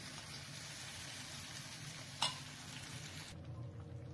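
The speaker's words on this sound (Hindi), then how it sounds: "अब ये छौंकन इसमें डाल दें।" Steady crackling sizzle of hot oil and spices, a tempering poured into cooked Gujarati khichdi, continuous and close, with a brief sharp splash partway through before the frying quiets down.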